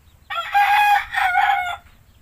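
A chicken being treated for botulism crows once, a loud, close, two-part crow lasting about a second and a half against quiet surroundings.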